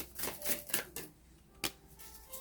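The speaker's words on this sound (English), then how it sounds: "I'm going to give the Lunasaur Tarot a shuffle" A deck of tarot cards being shuffled, a quick run of crisp riffling flutters followed by a single sharp snap and then near quiet, close and fairly soft.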